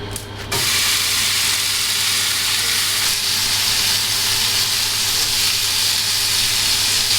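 Beef hitting a hot pan and frying, a loud continuous sizzle and hiss that bursts in after a brief quieter moment and carries on steadily, close and without talk.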